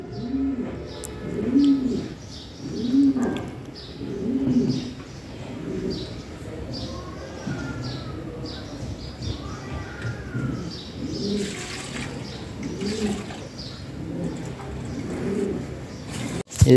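Lahori Sherazi pigeons cooing in their cage, repeated soft throaty coos close by, with occasional chirps, wing flutters and a faint background hum.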